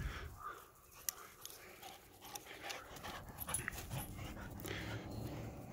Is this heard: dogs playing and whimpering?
yes